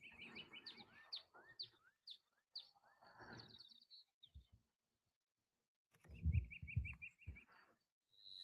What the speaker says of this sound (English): Hear a mourning dove calling.